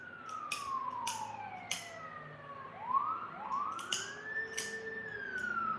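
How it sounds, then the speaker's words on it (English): An ambulance siren sweeps past at a distance, its wailing tone rising and falling in long glides, faint against quiet surroundings, with sharp nearby tapping clicks at intervals. "There's our first ambulance tonight."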